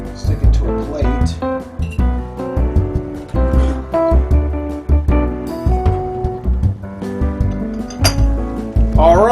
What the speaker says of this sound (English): Cut myself off a slice. Stick it to a plate.